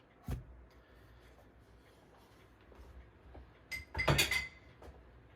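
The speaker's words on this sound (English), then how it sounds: "I'm going to get a piece of glass." A piece of glass is picked up and set down during comic book conservation work, giving a sharp clink at the start and a louder cluster of glassy knocks and clinks a few seconds later in a quiet room.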